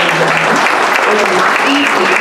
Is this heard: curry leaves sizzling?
no